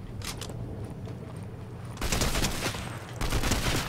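Gunfire in the Fortnite video game comes as two loud, dense bursts of rapid shots in the second half, after a quieter stretch with a few faint pops over a low, rumbling background.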